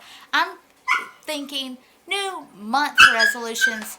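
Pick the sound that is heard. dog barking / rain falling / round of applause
dog barking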